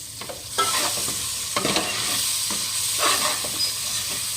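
Chopped green onion shoots stir-fry with spices in a pan for Punjabi kadhi, a steady sizzle broken by repeated scraping stirs, close and moderately loud with no speech.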